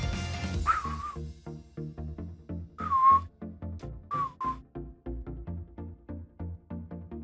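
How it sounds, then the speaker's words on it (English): A whistle is blown in a Pokémon card game setting: several short, shrill whistle bursts stand out over a steady rhythmic musical backing track. "We shall blow the whistle."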